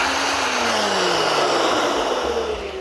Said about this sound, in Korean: 다음 네 번째, 우사히 무선 송풍입니다